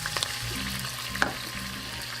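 Rice vinegar and tamari sauce sizzle in a hot stir-fry pan, a steady close frying hiss with a couple of sharp pops and spatter bursts, no talking over it.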